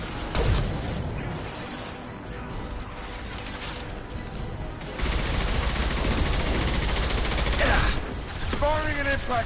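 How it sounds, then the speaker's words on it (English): Concussive shot fired in the video game Mass Effect 2, heard as dense, loud bursts of combat gunfire and impacts that grow heavier halfway through, with no voices over them. "Firing concussive shot!"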